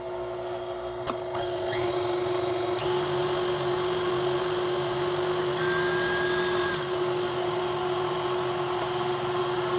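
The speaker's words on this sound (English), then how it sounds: "Turn off the mixer." An electric mixer beating cherry frosting hums in a steady, fairly quiet whine throughout, continuous and alone.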